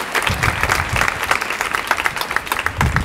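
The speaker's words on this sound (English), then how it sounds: "Give them a big round of applause." Steady, fairly loud applause from an audience at a school choir's Christmas concert, a dense wash of clapping that holds for a few seconds.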